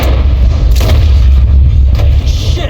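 A gunshot boom from the video game Red Dead Redemption 2, heavy and loud with a deep low rumble that fills the short stretch, carried on sustained game background sound with no talk.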